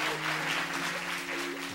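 A game show audience applauds steadily, a thick wash of clapping hands throughout, with a voice and some tonal sound running beneath it.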